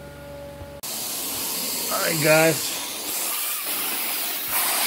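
A pre-spray is misted onto carpet for cleaning, heard as a soft, steady hiss of spraying with a brief louder burst in the middle, while someone speaks briefly at the start.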